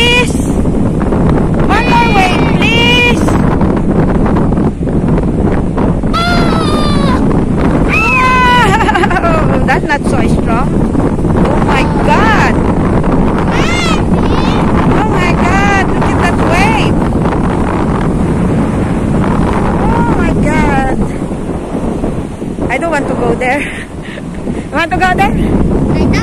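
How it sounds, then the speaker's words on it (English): Ocean surf crashes and rolls continuously at Playa de Santa Cruz beach, heavy and close with strong wind buffeting the microphone, while voices shout and chatter throughout. "Let's wait for the wave."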